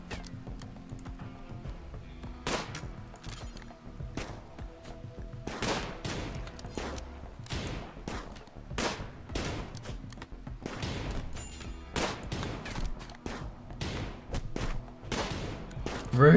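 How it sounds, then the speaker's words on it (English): Rapid bursts of gunfire in the colony-building video game Rimworld, a dense irregular crackle of sharp shots and volleys continuing throughout, moderately loud with no talk. "Fire it, Owen."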